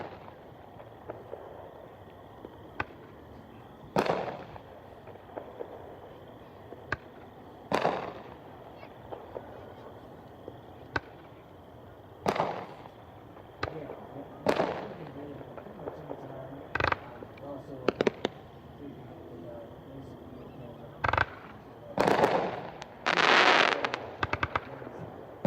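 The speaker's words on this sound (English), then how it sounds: "this cake, while it might not seem the most impressive, I assure you, when you're underneath it, it's in your backyard, it's just a great way to put a lot of fireworks up in the air." A backyard fireworks cake fires shot after shot overhead, sharp irregular bangs and crackles spread across the span, some in quick clusters toward the end, over a low background hum.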